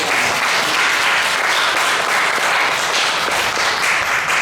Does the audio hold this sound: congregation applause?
yes